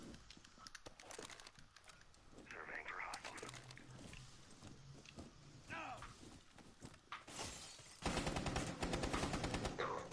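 Rapid video game gunfire bursts, machine-gun-like, sit under ongoing player voices and background game noise, growing louder and denser in the last two seconds.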